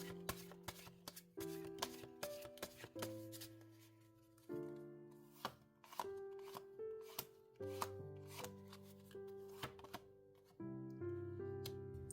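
Oracle cards being shuffled and handled in a quiet room, a series of soft papery riffles, taps and slides with irregular clicks, over a faint tonal background, no talking.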